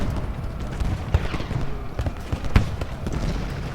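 Gunfire in the Ultimate General Gettysburg video game, scattered distant musket and cannon pops, irregular and mid-loud, with a couple of sharper cracks amid a rumbling battlefield background.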